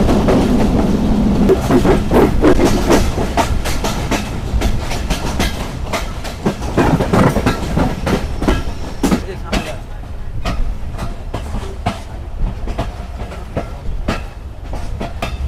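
The Banglabandha Express rolls along the rails from Panchagarh toward Abdulpur junction, a loud continuous rumble punctuated by rhythmic clickety-clack over the joints, heard from inside the carriage with some voices briefly present.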